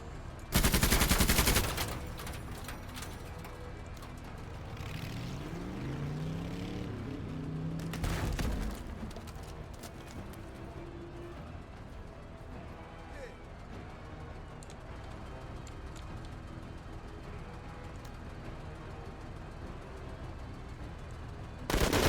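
Machine gun fire from the game Menace, loud bursts at the start and near the eight-second mark with steady battle noise and talk running underneath throughout.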